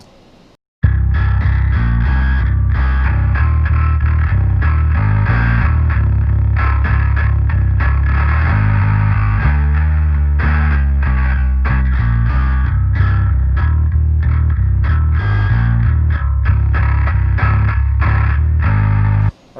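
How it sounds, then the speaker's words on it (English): Bass run through the Mammoth Bass plug-in on its Brute setting, an aggressive high-frequency distortion, plays a loud continuous riff after about a second of silence and cuts off at the end. "So Brute sounds like high frequency distortion."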